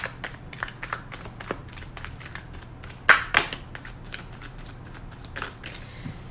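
Tarot cards being shuffled by hand, a run of quick papery riffles and taps close up, with a couple of louder slaps midway and a quiet room behind.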